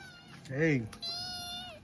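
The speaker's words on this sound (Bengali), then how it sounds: "ও বাচ্চা বিড়াল বলে মানে এরকম ডাকা ডাকছে" A kitten's meow rises and falls once, clear and close, followed by a sustained high-pitched tone.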